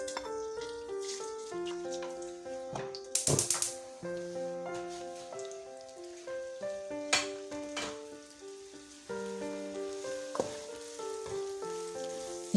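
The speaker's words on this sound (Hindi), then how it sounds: "प्याज निकाल ली है, अब श्रिम्प को डाल देते हैं।" Shrimp frying in a pan for a shrimp and vegetable biryani, a steady close sizzle throughout with occasional stirring scrapes, under background music and no talk.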